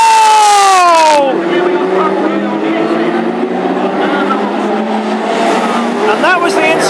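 Classic hot rod race cars tangle and crash into the fence during a championship final at Ipswich: a screeching tire squeal that drops sharply in pitch, then loud engine roar and scraping noise that continues steadily.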